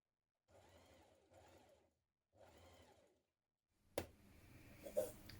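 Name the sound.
sewing machine stitching dress fabric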